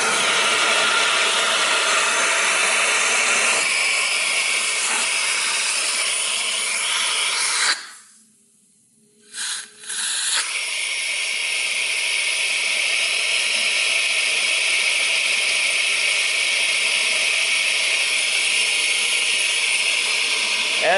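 A central vacuum system runs steadily during a water lift test, giving off a loud continuous airy roar that drops to near silence for about two seconds partway through, then resumes at a slightly changed pitch.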